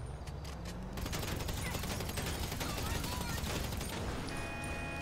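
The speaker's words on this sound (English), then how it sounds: "so just shoot around until you get the cops on you" Continuous gunfire in GTA Online, with dense overlapping shots forming a steady barrage of game combat noise throughout, alongside background game sounds.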